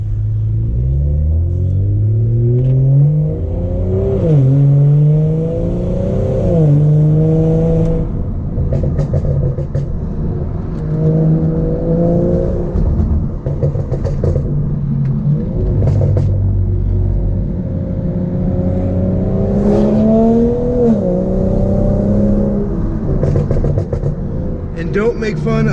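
A car is driven hard up a canyon road with traction control off, the engine pulling through repeated rising and falling gear sweeps under continuous loud rumble, while someone talks over it throughout.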